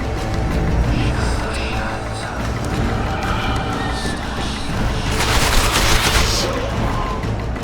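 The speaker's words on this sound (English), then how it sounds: "Take cover! They're shooting!" Gunfire rattles through a battle in The Witcher 2: rapid volleys of shots crackle continuously, with a sharper, louder burst near the end and voices faintly mixed in.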